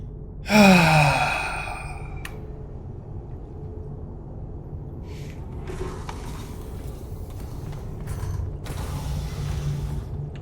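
A slow elevator in the space game Star Citizen starts with a loud creaking, groaning mechanical whine, then settles into a low steady hum with faint clunks and rattles as it keeps moving.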